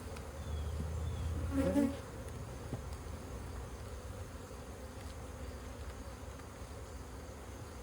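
Honey bees buzz around an open hive during a frame-by-frame inspection, a faint, steady hum with one louder close pass early on. A person speaks briefly.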